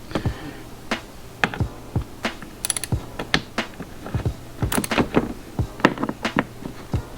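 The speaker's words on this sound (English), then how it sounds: "first we have to loosen this 310mm plastic nut here" A plastic nut on a BMW battery hardwiring point is worked loose, giving a string of close ratcheting clicks and small plastic snaps in uneven rhythm.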